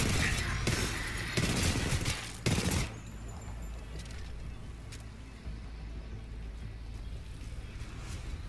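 Bursts of automatic gunfire in the Titanfall 2 campaign crackle loudly for the first few seconds, then give way to quieter scattered shots and rumbling ambience.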